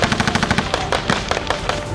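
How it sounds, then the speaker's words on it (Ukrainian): Rapid machine gun bursts in war footage, a fast, loud, close chain of sharp shots followed by a few more spaced single cracks. "кулеметні черги"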